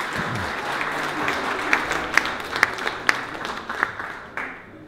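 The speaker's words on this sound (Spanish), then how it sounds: "Más fuerte el aplauso, por favor, para el profesor." An audience at a book launch claps for a professor, a dense burst of applause with a few sharp individual claps standing out, fading toward the end.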